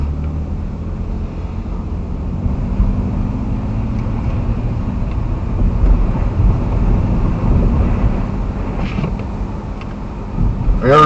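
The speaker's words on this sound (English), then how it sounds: "it's windy right here" Wind buffets a dash cam microphone in Milwaukee, Wisconsin after a severe hail storm, a constant low rumble and gusty roar mixed with vehicle road noise, moderately loud and steady throughout.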